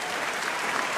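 A crowd at a WBA super bantamweight boxing match claps in a dense, even burst of applause, loud and sustained through the brief moment.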